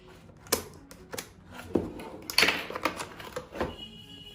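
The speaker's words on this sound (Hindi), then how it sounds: "मैं इस सील को पहले कट कर लेता हूँ।" Seals being cut open on a Logitech K480 multi-device wireless keyboard box during unboxing, a run of sharp, close clicks and snaps with scraping between them, no talking.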